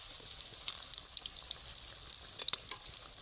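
Battered cauliflower chops deep-fry in hot oil with a soft, steady bubbling sizzle and scattered light pops and crackles, fairly quiet and close.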